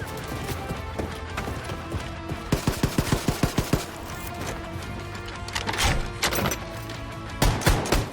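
Rapid bursts of gunfire from a shotgun turret in the shooter game Wolfenstein: The New Colossus, a run of evenly spaced loud blasts over a dense, noisy battle bed with further scattered shots.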